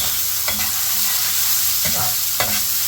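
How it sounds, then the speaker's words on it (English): Finely chopped onions frying with cumin and salt in a pan for okra bhaji: a steady, loud sizzle throughout, broken by a few scraping stirs of a spoon, with no talk. "it's time to add some finely chopped onions. I like to add some salt while cooking onions."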